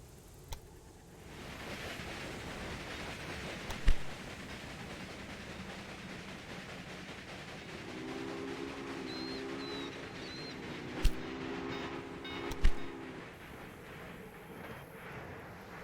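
A steady rolling rumble of a train running in a train video game, with a few sharp clanks and a faint whistle-like tone in the middle, continuous and moderately loud with no talk.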